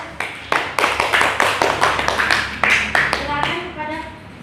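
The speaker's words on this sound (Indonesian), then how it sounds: "berikan aplaus kepada kelompok 1" Classroom audience applauding group 1 during a micro-teaching economics lesson: a run of sharp, close hand claps, irregular and dense, lasting several seconds before trailing off, with faint voices mixed in near the end.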